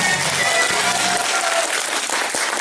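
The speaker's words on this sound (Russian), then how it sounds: "Аплодисменты" Applause rises from the audience at a live concert, a loud, dense wash of clapping that sits over the fading tail of the music and continues to the end.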